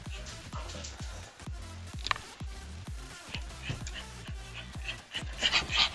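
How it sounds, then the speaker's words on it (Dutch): A small dog pants rapidly and rhythmically close by, outdoors under a thundery sky, with steady breathy puffs throughout and people talking in the background. "Oh, wat een hond."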